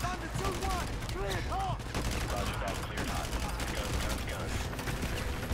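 Dense gunfire in the Call of Duty: Modern Warfare 2 campaign, a continuous loud barrage of overlapping shots with voices shouting over the combat.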